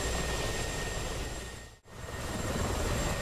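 Mi-24P Hind attack helicopter engine and five-blade rotor in DCS World, a steady loud broadband whine and rotor roar that briefly drops out for an instant midway before resuming at full strength.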